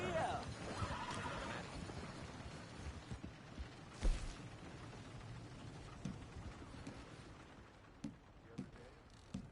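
A horse whinnies near the start amid busy background noise in the video game Red Dead Redemption 2, followed by scattered thumps and clatter.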